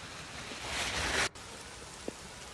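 Heavy rain during a downpour in Delhi makes a steady hiss that swells, cuts off sharply midway, then continues more quietly with a brief knock near the end.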